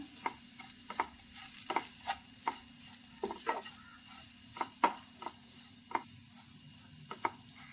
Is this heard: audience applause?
no